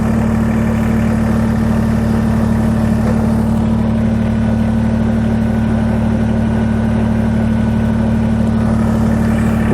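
A Kubota BX23S compact tractor engine runs at a steady, low, droning idle, close by, as the machine creeps forward a few inches. No one speaks.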